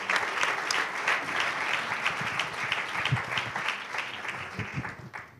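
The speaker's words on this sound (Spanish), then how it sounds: "Un aplauso para nuestro emprendedor." A crowd applauds an award-winning entrepreneur at a start-up awards ceremony, dense clapping filling the room steadily before tapering off at the end.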